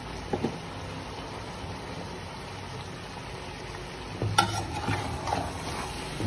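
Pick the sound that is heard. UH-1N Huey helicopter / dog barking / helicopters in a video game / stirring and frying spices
stirring and frying spices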